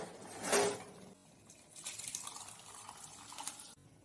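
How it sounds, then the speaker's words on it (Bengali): Hot water is poured into a pot of ghugni made with mutton fat, a short splash followed by a soft, faint gushing and bubbling for a few seconds. "পরিমাণ মতো গরম জল ঢেলে দিলাম"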